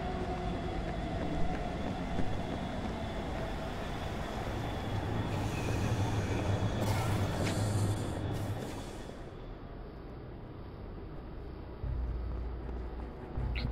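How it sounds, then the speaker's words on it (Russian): Train in the video game State of Mind, a loud steady rumbling roar of rolling rail cars with faint rattles, holding close for most of the stretch before easing slightly toward the end. "Так вот поезд."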